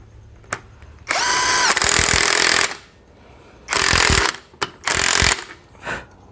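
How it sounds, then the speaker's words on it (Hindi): A power tool tightens the strut mount nut on a Volkswagen Skoda suspension strut, firing in several loud, close rattling bursts of uneven length separated by short pauses. "तो ये नट मैं पूरा टाइट कर लेता हूँ।"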